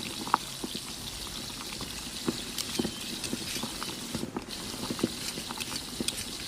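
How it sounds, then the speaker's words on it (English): Garlic sautéing in a pan while chicken wings are cooked, giving a steady close sizzle with scattered pops and crackles throughout. "Add garlic. Sauté for 30 seconds."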